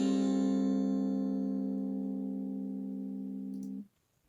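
A single strummed guitar chord from a song, pitch-shifted an octave higher, bright and high-pitched, ringing out steadily for almost four seconds before cutting off abruptly.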